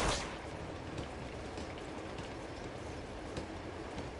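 A train in the video game Uncharted rumbles and rattles steadily as a dense, continuous wash of noise with a sharp burst at the start and no voices.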